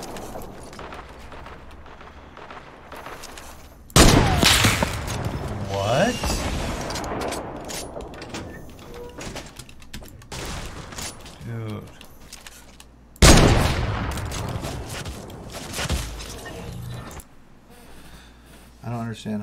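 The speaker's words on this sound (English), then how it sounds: "Understand how those shots missed." Bursts of video game gunfire hit hard at two moments, each a loud rapid volley, with someone talking over and between the shots.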